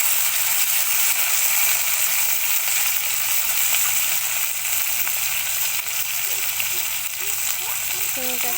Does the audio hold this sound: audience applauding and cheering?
no